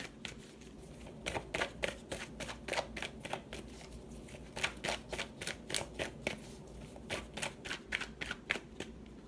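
Tarot cards shuffled by hand in a steady run of crisp riffles and flicks, each burst snapping close to the mic, repeating rhythmically over a faint low hum with no talking.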